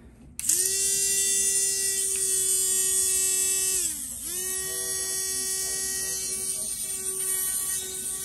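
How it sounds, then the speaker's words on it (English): A Dremel rotary tool grinds a very thick fungal toenail with a new bit, a steady high-pitched whine that stays loud and close, dips briefly as the motor slows under load, then spins back up. "now we're gonna go ahead and Dremel away"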